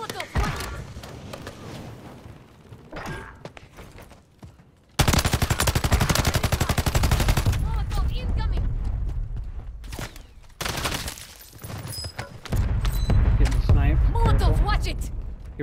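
Rapid automatic gunfire rings out in an online squad shooter video game, with long dense bursts and single loud shots at close range, and players talk between and over the firing.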